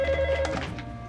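A telephone rings indoors with a steady electronic tone lasting about half a second and then fading under room noise, with no talking.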